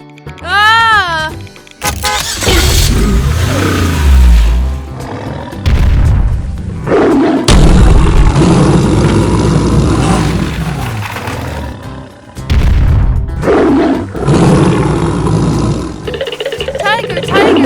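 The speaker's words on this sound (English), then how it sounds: "Oh no! It's a tiger!" A tiger roars several times in a cartoon scene, loud and close, with long rumbling bursts separated by short pauses, while voices speak and exclaim in between.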